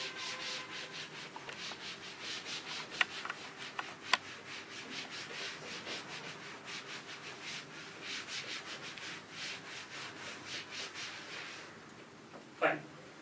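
Writing being rubbed off a board, a sustained close scrubbing and rubbing sound in repeated strokes lasting several seconds, with a couple of sharp knocks and a brief scrape near the end.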